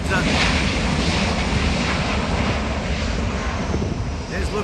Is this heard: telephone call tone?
no